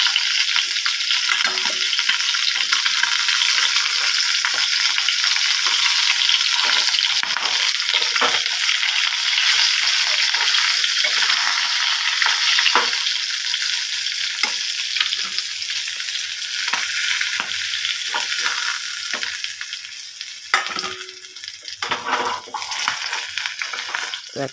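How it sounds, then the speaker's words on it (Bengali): Rui fish frying in hot oil for a Bengali rui and prawn dish gives a loud, steady, close sizzle that runs almost unbroken, with small crackles and pops scattered throughout and a slight drop near the end. "ভাজা দেখছি ভাজা হয়ে গেছে, তুলে নিচ্ছি মাছগুলো"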